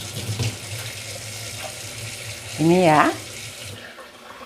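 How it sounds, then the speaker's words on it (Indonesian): Water runs steadily from a kitchen tap in Switzerland, a constant close hiss filling the sink, with someone speaking briefly over it. "Ini teman-teman, saya nyalakan airnya."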